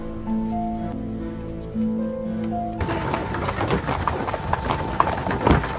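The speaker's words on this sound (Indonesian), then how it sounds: "mengantarkan Jean Baptiste dengan kereta kuda mewah ke tempat eksekusi" Hooves of a luxurious horse-drawn carriage clip-clop in a steady trot, loud and close, at first under sustained musical tones and then mixed with busy clatter and rattling.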